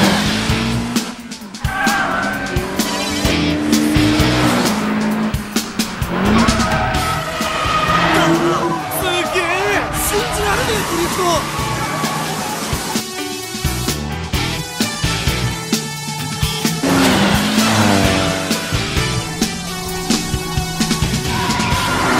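Toyota AE86 drifting in an Initial D anime race against a Nissan Skyline, with tire squeal and a revving engine sustained throughout, loud and continuous under a busy soundtrack.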